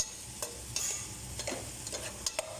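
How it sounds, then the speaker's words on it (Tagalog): Dinengdeng vegetables with beans, garlic and onion stirred in a pan, giving soft sizzling and a few distinct scraping clinks of the spoon, with no talking. "Haluin ng maigi."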